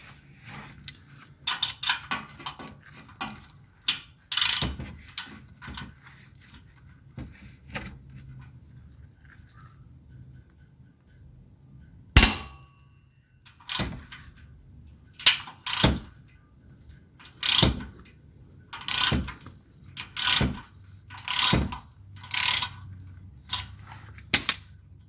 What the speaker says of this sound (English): my main objective right now is to just get the bolts off without stripping